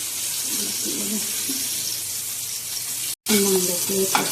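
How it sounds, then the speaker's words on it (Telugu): Dal and green chillies fry in hot oil, giving a loud, continuous close sizzle with a brief dropout midway and a faint voice underneath. "పచ్చైన పప్పుని వేయించుకోవాలండి ఆయిల్లోనూ"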